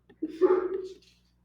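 A dog gives a short whimpering yip, a single brief vocal burst close by in a quiet room.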